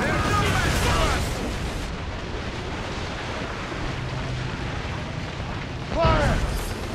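Ship cannons fire in booming volleys over crashing ocean waves in a naval battle in Assassin's Creed Rogue, loud rumbling blasts with voices shouting between them.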